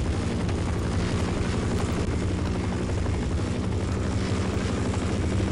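A military chopper in Half-Life hovers close by, a loud, continuous rotor thump and engine roar that stays steady and dense throughout, without talk.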